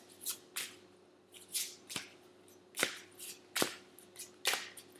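Playing cards being shuffled up close, a series of soft riffling swishes and slaps in an irregular rhythm, with a quiet hum underneath.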